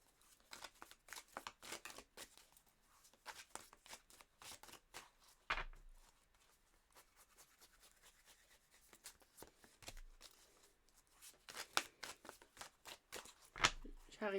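Tarot cards are shuffled and drawn in quick, soft papery flicks and rubs, a steady rustling run broken by a few sharper slaps, close and quiet with someone speaking over it.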